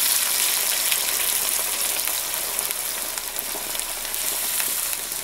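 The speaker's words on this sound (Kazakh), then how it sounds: "Енді оған жаңа ет піскен сорпаның, еті өз қайнаған сорпасын құйып жатырмын." Meat broth poured into a hot frying pan while making a Kazakh flour kuyrdak, giving a steady, loud, bright sizzle that holds for several seconds with no voices.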